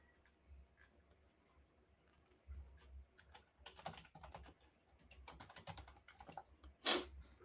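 Faint keyboard typing, scattered quick clicks and short bursts of keystrokes that grow busier midway, with a sharper click near the end, heard alone at low level.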